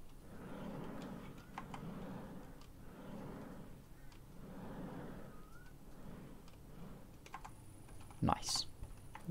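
Computer keyboard keys pressed while playing the game SpaceMek, soft scattered clicks under a low rumbling background, with a brighter electronic burst near the end.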